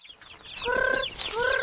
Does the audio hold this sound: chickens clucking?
yes